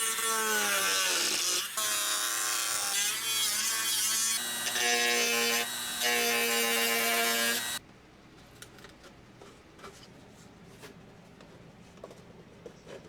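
A loud, steady high-pitched whine of a cutting tool cutting a fiberglass cowl around a model aircraft muffler for about eight seconds, then it cuts off, leaving quiet faint clicks and rustling.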